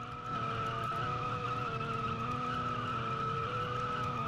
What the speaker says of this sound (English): if you hear engine sound doing some really funny stuff, it's the Roblox thing